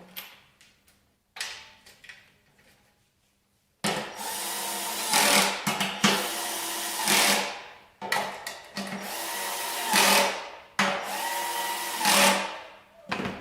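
Screws are driven in while a sewing machine table is assembled: a few soft knocks, then four or five loud bursts of a power screwdriver whirring, each lasting one to two seconds, close and with no talking.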